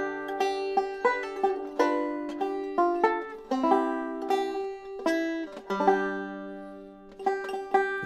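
Amazing Grace played slowly on a banjo, bright plucked notes ringing and decaying one after another in a steady melodic line, close and clear with no voice.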